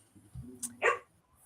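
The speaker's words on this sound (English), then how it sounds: "the stupid thing started barking" A dog gives a single short bark after a faint low whimper, fairly quiet and close in an otherwise still room.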